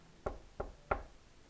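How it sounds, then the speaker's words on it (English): Three evenly spaced knocks land on a wooden door, crisp and fairly close, each a short thud separated by a brief pause, with no voices. "a wolf came along and knocked at the door of Withy's house."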